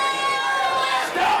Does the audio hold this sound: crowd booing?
yes